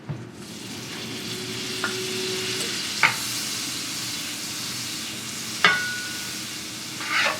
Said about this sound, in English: using the same pan that we seared the steak and the asparagus in, we're going to add the remaining butter